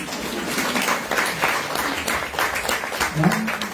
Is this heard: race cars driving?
no